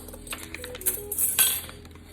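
Light metallic clinks of a measuring teaspoon tapping against a dish while MSG is measured for Korean BBQ seasoning, a few scattered close taps over about two seconds with no voices.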